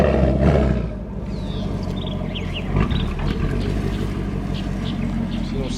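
A sixth-generation Camaro SS with its muffler deleted roars loudly up close, a deep rumbling exhaust that surges at the start, then settles into a steady heavy drone.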